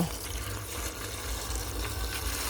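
Running water splashes steadily into a compost bucket being washed, a continuous close gushing rinse with low rumbling underneath.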